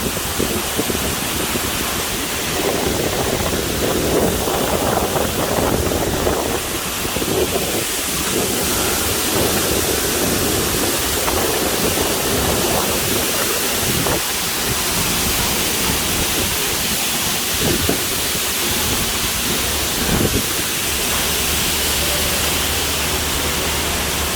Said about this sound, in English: Ah, it's windy.